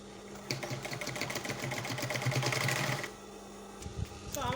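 Sewing machine stitching the gusset of a crossbody bag with multiple pockets, a close, steady rapid mechanical chatter for about two and a half seconds before stopping, followed by a few light handling clicks.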